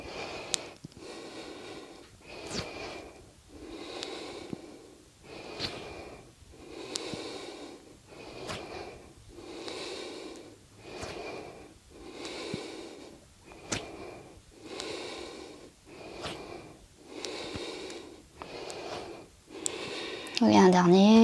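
Slow, steady breathing during a yoga exercise, about a dozen rhythmic inhale-exhale cycles at an even pace, close and soft, with a brief louder noise at the very end.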